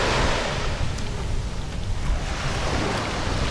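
Ocean waves washing onto a beach on an island near Cartagena, a continuous broad roar of surf with wind buffeting the microphone, no voices.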